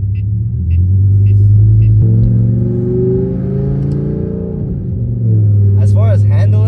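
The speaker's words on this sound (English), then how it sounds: "you get an engine that sounds like a Gallardo or a Huracan" A 2006 BMW M5 E60 with its V10 engine revs hard, giving a loud, rising and falling growl that climbs in pitch, drops away briefly, then returns as a strong close roar with clicking mechanical sounds over it.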